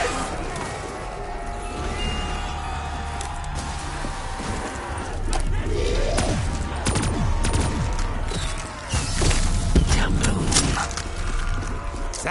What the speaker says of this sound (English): That explosion is very bright